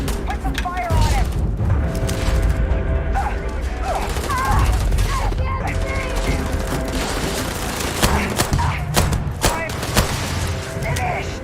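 A firefight in the video game Starfield brings dense, continuous gunfire with repeated sharp shots and heavy booms, while voices shout over the shooting.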